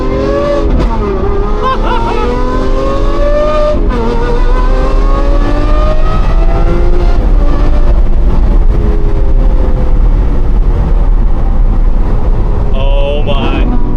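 Lamborghini Aventador SVJ with its V12 engine pulling away from a parking lot, a loud steady engine drone with rising harmonic sweeps through gear changes, close and continuous, with a voice speaking over it.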